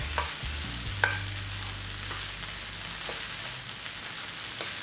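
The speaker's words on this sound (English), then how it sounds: "Just stir it all together." Vegan egg fried rice with soy sauce being stirred in a pan: steady sizzling with a few scraping stirs and soft clinks, close and alone.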